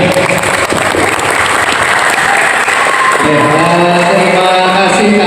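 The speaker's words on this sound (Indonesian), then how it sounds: "Aplaus untuk beliaunya" Sustained applause from an audience at a halal bihalal gathering in Nganjuk, loud and dense throughout, with a low hum entering partway through.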